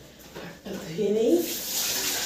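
Tap water runs steadily into a kitchen sink as hands are rinsed after preparing a Bengali bharta with chillies, a soft continuous splash rising and holding.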